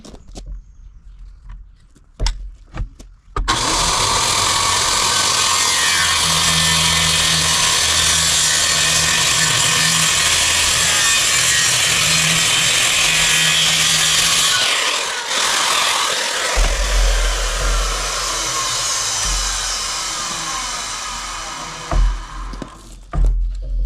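A power saw notches a wooden flooring board, a loud, continuous cutting whine that holds for about eleven seconds and then drops away, with a few knocks and handling sounds before and after.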